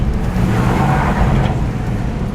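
Steady low rumble of a 5.7 Hemi-powered car cruising along at coasting speed with no throttle, a continuous, fairly loud engine and road drone with no talking.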